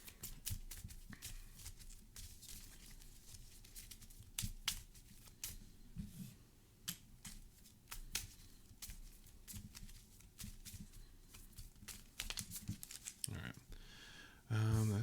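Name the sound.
shuffling playing cards, Marvel Champions card game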